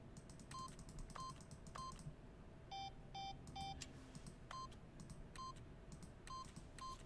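Keypad tones from The Stanley Parable video game: a string of short electronic beeps pressed one at a time in an uneven rhythm, clear over a soft background hum.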